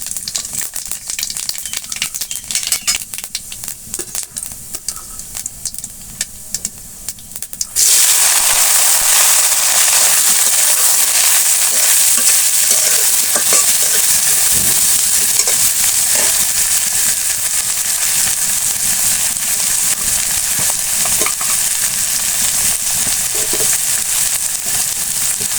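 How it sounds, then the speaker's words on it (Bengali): Dried chillies, cumin and nigella seeds hit hot oil for a Bengali hilsa and aubergine curry, setting off a sudden loud sizzle that stays steady and crackling, close by, after a quieter stretch of faint spitting. "তেল গরম হয়ে গেছে, আমি দিয়ে দিচ্ছি একটু শুকনো মরিচ, কিছু জিরা এবং কালি জিরা ফোড়ন দিয়ে দিচ্ছি।"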